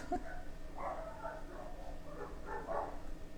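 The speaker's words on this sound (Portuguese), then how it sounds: "E vocês escutando os cachorros ao meu redor latirem." Several dogs barking around a person during a makeup livestream: faint, somewhat distant barks in a few short bursts over a quiet background with low room noise.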